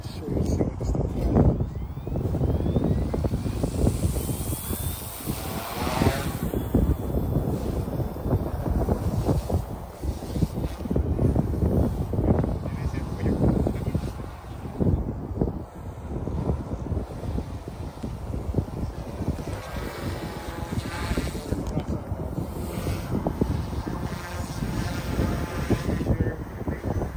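Strong outdoor wind buffets the microphone over a grassy flying field while an OMP M2 Evo is flown, a loud, steady roar with gusty surges throughout.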